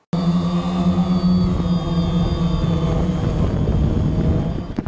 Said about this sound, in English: jadi kita sekarang mau terbangin drone-nya